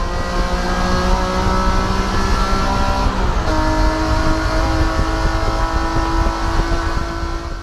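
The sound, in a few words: GT3 race car engine driving fast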